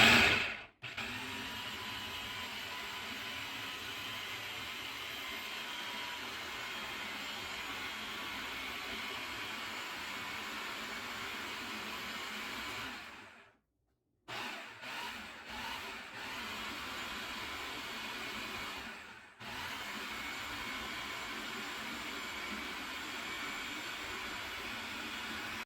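A blender pulsing mango habanero hot sauce with brown sugar, a loud, steady motor roar that cuts out abruptly twice and restarts, heard close up with no talking.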